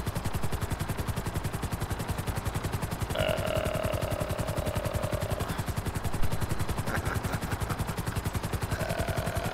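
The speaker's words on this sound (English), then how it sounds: "I forgot I can't land this helicopter on this Kosaka." A helicopter in the GTA Online Cayo Perico heist video game thuds steadily with fast, even rotor chopping, loud and close, with occasional tones and a brief click, and no talk.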